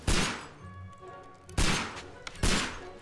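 Three loud, close gunshots ring out in the Sherlock Holmes: Crimes and Punishments video game, spaced about a second apart, each with a sharp crack and a decaying tail.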